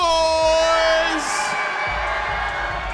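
A tournament crowd cheers and whoops for Capcom Man at an esports championship, loud shouts rising from a sustained tone and then holding as a rowdy roar, with a voice calling out among them.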